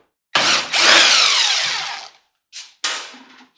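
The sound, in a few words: power tool removing security screws from a microwave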